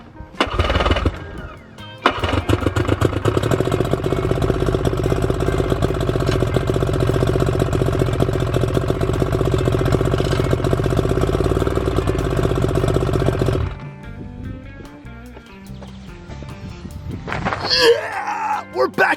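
A Force outboard boat motor, repaired after its gears failed, sputters to life and runs steadily and loudly for about twelve seconds, then cuts to quieter wind and a cheering voice.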